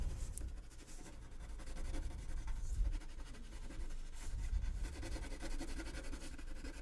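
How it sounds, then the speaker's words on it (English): A colored pencil scribbles a loose, scratchy base coat across paper in steady back-and-forth strokes, a soft continuous rasp close by with no talking. "Scribble scrabble, throwing down just a scratchy base coat."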